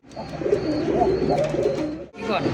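Pigeons, large Bombay, satin and racer breeds, coo close by in a low, rolling warble that runs nearly continuously, with a brief break just before the end.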